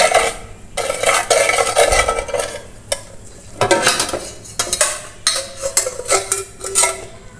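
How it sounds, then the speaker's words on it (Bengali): A spoon scrapes and clinks around a bowl as red food colouring is stirred into a falooda mixture, in bursts of brisk stirring separated by short pauses, close and clear. "আমি এটাকে নেড়ে মিশিয়ে নেব।"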